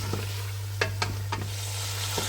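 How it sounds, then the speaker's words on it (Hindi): Chicken frying in a pan with garlic, ginger and whole garam masala spices, a steady close sizzle with a few sharp stirring scrapes, no voices. "चिकन की भी हल्की हल्की बुनाई हो रही है"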